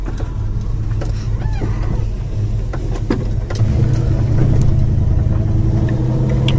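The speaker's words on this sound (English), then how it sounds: "Today I'm driving a 1972 Plymouth Duster with a custom, very nice custom paint." A 1972 Plymouth Duster with a 318 V8 drives along, its steady low engine rumble continuous and close, growing slightly louder and fuller toward the end.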